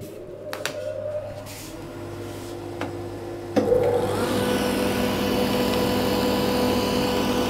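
A woodworking shop dust collector starts up about three and a half seconds in with a sudden jump, then runs as a steady, loud roar with a constant hum and airflow whoosh to the end, alone without talk.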